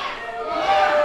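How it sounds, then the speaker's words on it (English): Wrestling event crowd chanting in unison, a dense roar of many voices filling a short stretch, loud and sustained. "Entire crowd chanting for Lance Dean."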